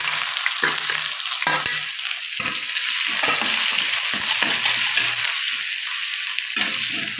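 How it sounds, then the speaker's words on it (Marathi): Chopped onion with garlic and cumin frying in a pan, a continuous close sizzle broken by repeated scraping stir strokes across the pan. "आता कांद्याला छान गुलाबी रंग येईपर्यंत परतून घ्यायचा आहे।"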